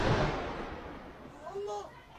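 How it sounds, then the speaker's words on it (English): A JDAM bomb explosion hits with a loud, deep blast at the start, then a long rumbling decay that fades out, with a voice briefly audible near the end. "And this is what the JDAMs sound like."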